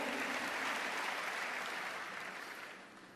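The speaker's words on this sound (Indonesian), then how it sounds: "Berikan tepuk tangan yang meriah buat Tuhan" A church congregation clapping together during a Christian sermon: dense, sustained applause from many hands filling the hall, slowly tapering off toward the end.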